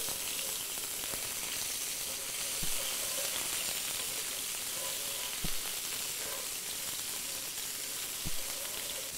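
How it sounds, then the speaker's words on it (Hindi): Ginger garlic paste fries in oil with cumin seeds, giving a steady, dense sizzle and hiss broken by a few sharp pops at intervals. "जिंजर गार्लिक पेस्ट को अच्छी तरह भून लो"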